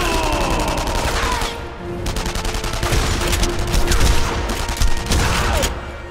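Dense gunfire from weapons including an MP40 in the World War II shooter Enemy Front, rapid overlapping bursts and shots filling the whole stretch, loud and continuous with battle ambience.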